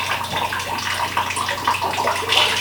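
Water draining from a pipe into a bucket while an old water softener is removed, a steady splashing trickle heard close up with no talk.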